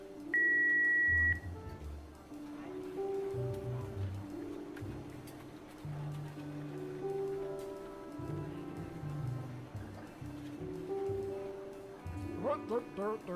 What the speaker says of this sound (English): Please leave a message at the beep